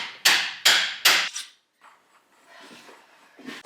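Three sharp metallic hammer strikes on a crown race installer fitting a bicycle fork crown race, loud and close in quick succession, followed by softer handling noises and a final lighter tap.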